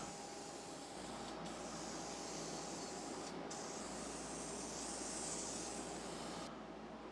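A spray paint can sprays a top coat onto a target tree with a steady, quiet hiss, broken by a few short pauses between passes.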